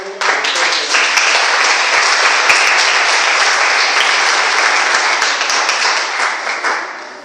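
Audience at a book presentation bursts into loud, sustained applause, a dense crowd of clapping hands that swells quickly, holds strong for several seconds and then tapers off.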